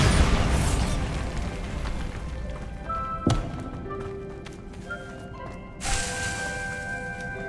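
Bombarda blasting spell explosions in Hogwarts Legacy: a loud burst fading into ringing debris, then two sharper booms a few seconds apart, each followed by tinkling rubble.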